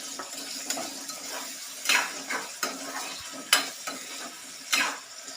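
Green chillies and onions frying in a pan, with a low sizzle beneath repeated spoon-against-pan scrapes and clinks at irregular intervals; close and fairly quiet, no speech.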